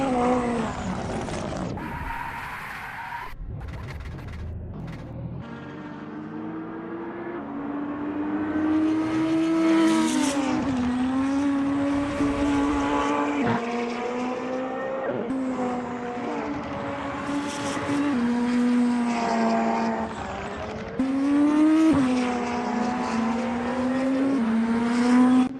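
Race cars in Assetto Corsa scream along the start-finish straight at Fuji during a Super GT round, with sustained engine tones rising and falling through gear shifts and several cars overlapping close by.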